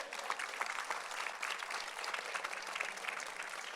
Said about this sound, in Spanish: damos un aplauso si quiere